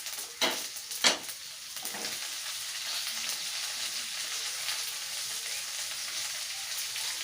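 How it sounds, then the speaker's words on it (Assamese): Mustard seeds spluttering as mango pieces go into a hot pan, two sharp pops near the start followed by a steady, even sizzle of frying that continues to the end. "সৰিয়হকেইটি ফুটাই দিছোঁ আৰু আমখিনি দি দিলোঁ।"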